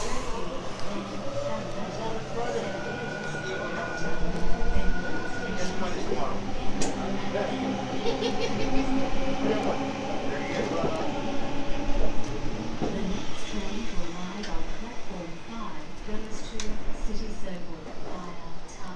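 Sydney Tangara train pulling out on a Leppington service at Redfern: a steady mid-distance rumble of wheels and motors with a sustained tonal whine, a clunk partway through, and a voice talking over it.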